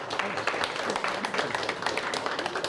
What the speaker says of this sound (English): One more round of applause for the champs.